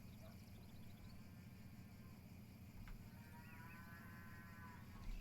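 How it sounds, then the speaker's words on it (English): Cows mooing in a video game, a low droning chorus of lowing livestock held steady under faint game ambience, with a few higher bleat-like calls partway through. "Can those cows shut the fuck up?"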